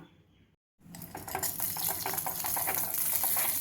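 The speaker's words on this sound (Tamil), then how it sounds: "முந்திரி பருப்பை நெய்யில் நல்லா வறுத்தாச்சு" Cashew nuts frying in ghee in a pan, a steady hiss and sizzle with light stirring scrapes, beginning after a brief silent gap and continuing close and fairly loud.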